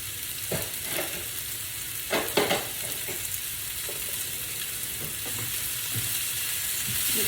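Sliced bitter gourd fries with salt in a pan for Kerala-style pavakka thoran, giving a constant close sizzle. A few scraping stirs sound early on, and nobody talks.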